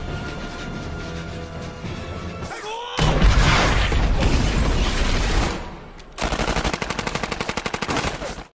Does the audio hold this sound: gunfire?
yes